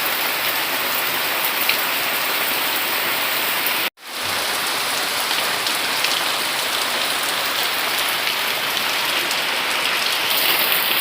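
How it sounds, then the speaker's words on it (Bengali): Steady, dense rain pours down, hissing on surfaces nearby, with a brief cut in the sound partway through. "শুরু হয়ে গেছে বৃষ্টি"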